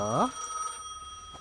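A telephone rings once in the game Gas Station Simulator, a short electronic ring with a bright harmonic warble that quickly fades into a steady tone and low room hum.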